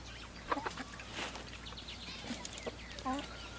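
Chickens in a farm chicken yard beside the coop, with scattered clucks and short calls at moderate distance over a soft outdoor background, while a person talks.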